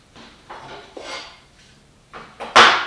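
A saw guide rail is flipped around on a workbench, producing a few hollow knocks and scrapes, ending in a sharper, louder clatter as it is set down, close by with no talking.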